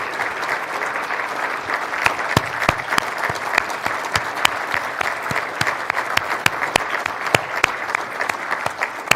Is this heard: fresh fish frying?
no